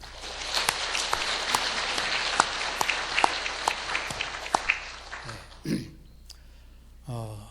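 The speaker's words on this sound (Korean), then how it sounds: "우리 힘찬 격려의 박수로 감사를 표하도록 하겠습니다" Applause from a church congregation during a Sunday service, a spread of sharp individual claps over steady room noise, fading out near the end with a few brief low sounds after it.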